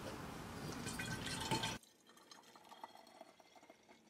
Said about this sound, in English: So I'm going to put some in the measuring cup and transfer it.